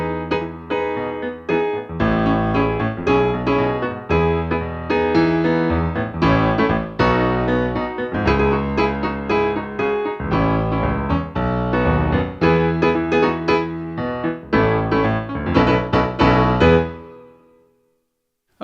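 Keyboard improvising in a disco style, with a bass line under funky chord stabs and soloing runs, a steady busy groove played alone that fades out near the end.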